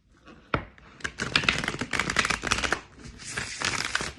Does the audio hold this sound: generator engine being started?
no